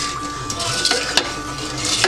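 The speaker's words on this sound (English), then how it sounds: "You're going to stir it up and make sure that all the sugar and everything is together." A spoon stirs a sugar mixture for cinnamon rolls in a pot, giving scattered scraping strokes and light clinks over a soft background hiss, with no voices.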